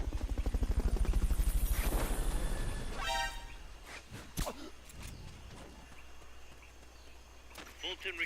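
A helicopter in Metal Gear Solid Peace Walker thrums loudly with a pulsing rotor beat for about three seconds, then cuts off, leaving scattered footsteps and sparse clicks, with a voice speaking.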